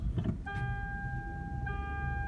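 Toyota Avalon being switched on: a brief rumble, then steady electronic dash chimes start and hold, with a second chime tone joining near the end over a low background hum.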